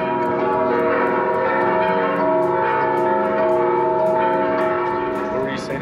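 Church bells ring continuously in a dense, overlapping peal, steady and fairly loud throughout, with a faint voice briefly near the end, in San Miguel de Allende, Mexico, over Easter weekend.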